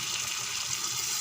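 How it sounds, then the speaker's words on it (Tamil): Water pours steadily into a pot of sambar, a continuous close gushing splash for about a second. "இன்னும் ஒரு டம்ளர் தண்ணி விட்டு"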